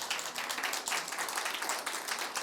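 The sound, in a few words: applause in church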